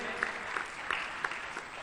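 Children at a yoga and Vedic culture gathering clap for themselves, a steady, somewhat distant wash of many small hands with a few sharper claps poking through.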